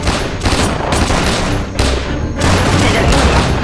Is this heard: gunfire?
yes